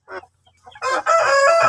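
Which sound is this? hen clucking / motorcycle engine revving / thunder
hen clucking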